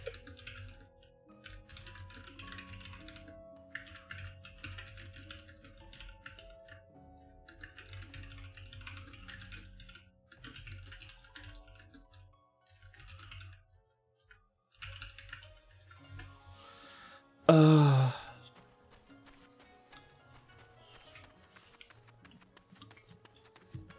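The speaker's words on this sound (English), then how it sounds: "Oh, typing ASMR." Typing on a computer keyboard runs in bursts of rapid clicking keystrokes at moderate volume, pausing now and then, with one sudden loud thump partway through.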